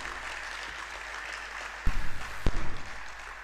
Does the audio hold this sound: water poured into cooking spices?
no